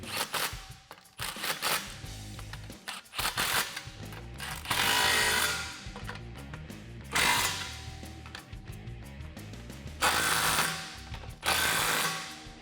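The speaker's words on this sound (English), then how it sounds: "take your 15mm deep socket. We're gonna lift up on this mid pipe and tighten down these clamps." A 15mm deep socket ratchets down the exhaust clamps on a 2018-2020 Mustang GT cat-back exhaust, with metallic clicking and several bursts of louder mechanical whirring and rattling, close up and with no talking.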